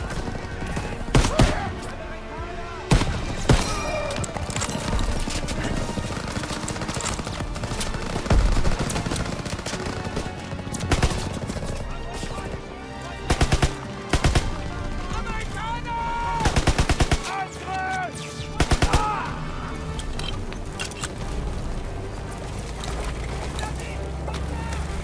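Machine guns fire in a WW2 video game campaign, sustained loud bursts and rapid repeated shots with explosions and battle noise, while French-speaking voices shout over the combat.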